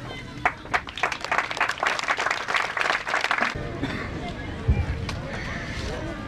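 Audience applause at an independence celebration in Pohnpei, a dense burst of clapping for about three seconds that then drops away into crowd murmur and ambient noise.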